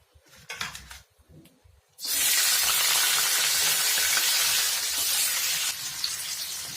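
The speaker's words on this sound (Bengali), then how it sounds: "তেলের মধ্যে এখন পেঁয়াজ দিয়ে দেবো।" Onions drop into hot oil in a wok after a couple of quiet seconds with light knocks, bursting into a loud, sustained close-up sizzle that continues to the end.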